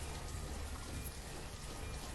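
Rain in the video game Banished, a constant, dense patter of raindrops on surfaces forming a low, unbroken hiss, with no talk over it.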